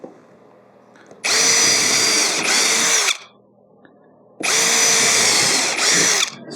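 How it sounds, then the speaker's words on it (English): A power drill pre-drills screw holes in wooden wall framing of a homemade camper, two loud sustained whirring bursts of about two seconds each, separated by a brief quiet pause. "Just going to pre-drill all my screw holes."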